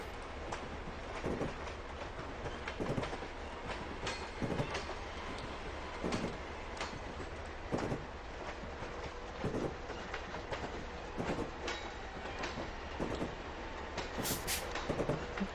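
Steady rolling train sound from a New York Central route between Boston and Albany in a train simulator game, with rhythmic clicks over rail joints and a brief high squeal near the end, running continuously without talk.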